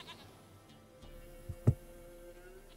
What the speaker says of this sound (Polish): Dlatego była potrzebna koza